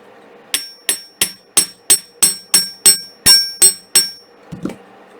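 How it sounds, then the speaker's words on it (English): Metal hammer striking wire for handmade wire-wrapped cabochon earrings, about a dozen sharp, ringing taps in a steady rhythm, close and loud, with no talking. "And I'll hammer the other one."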